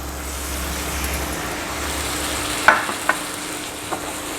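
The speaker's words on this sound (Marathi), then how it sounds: "नंतर ही कोलबी स्वच्छ धुवून घेतली आहे ती ॲड करूया" Washed prawns drop into masala frying in oil for a spicy Agri-Koli style prawn curry. A steady sizzling hiss runs throughout, and a few light clinks of stirring come near the end.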